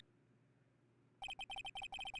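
In a video game, a phone rings after its redial button is pressed: silence, then a quick run of loud, evenly repeated electronic ring bursts, with no voices over them.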